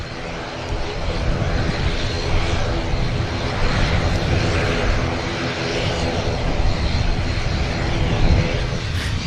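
An airliner's engines roar at Manchester Airport, a broad steady rumble holding loud and continuous throughout with no pauses.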